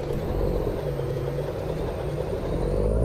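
Freightliner truck engine in American Truck Simulator, a steady low rumbling drone with a faint whine above it, continuous and even throughout.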